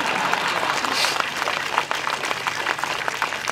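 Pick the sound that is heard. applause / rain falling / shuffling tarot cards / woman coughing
applause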